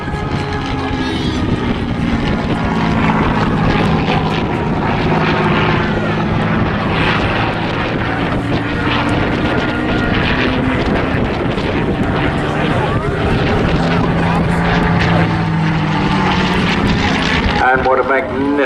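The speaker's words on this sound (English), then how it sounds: "our third Spitfire of the day." Spitfire fighter displaying at an airshow, its loud sustained piston-engine roar rising and falling as it passes, with wind buffeting the microphone throughout.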